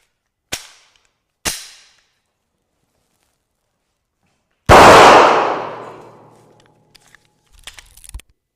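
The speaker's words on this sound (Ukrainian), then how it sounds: "Зараз будемо робити постріл в наш балістичний шолом з матеріалу арамід, тобто кевлар." Two sharp cracks ring out, then a much louder gunshot booms and echoes away as a shot is fired at an aramid (Kevlar) FAST ballistic helmet, followed by faint clicks and rustling handling noises.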